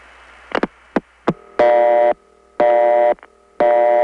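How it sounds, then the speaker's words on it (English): Crossbar tandem telephone exchange in Utica, New York, cutting through on a long-distance call from New York City: a few sharp clicks, then loud buzzing tone bursts pulsing on and off in a regular cadence on the line. "since Utica makes that sound when it cuts through, you know it's a crossbar tandem in XPT"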